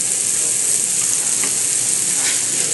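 Mahi mahi fillet frying in olive oil in a metal skillet without nonstick coating, a loud, dense, close sizzle that holds steady for a few seconds with no speech.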